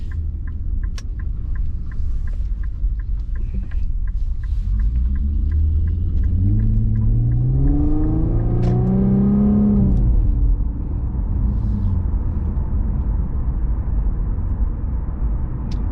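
A naturally aspirated Infiniti V6 fitted with a Helmholtz sport exhaust idles with a low rumble, then the revs climb in a rising, throaty tone for several seconds before dropping back to a steady idle.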